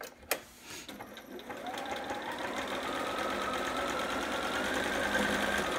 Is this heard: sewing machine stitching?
yes